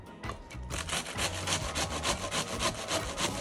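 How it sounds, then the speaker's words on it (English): A kitchen knife shreds cabbage leaves for coleslaw in a quick run of rhythmic, scraping strokes, close and crisp, each cut a short rasp repeating several times. "use my knife to shred them"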